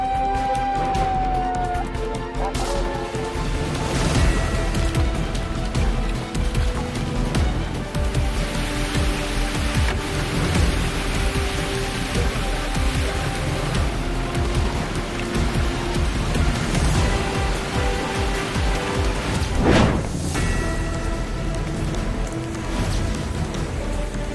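Heavy monsoon rain pours down steadily amid flooding, a dense continuous hiss of drops on surfaces with a brief sharp crackle near the end.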